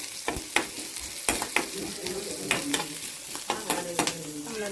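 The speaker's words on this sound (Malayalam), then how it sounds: "നമ്മളിതാ വറവിട്ട് കുറച്ച് നേരം അങ്ങനെ വെക്കണം." Curry leaves and shallots sizzle in hot oil for a tempering, steady frying with sharp crackles and pops, some stirring, and no voices.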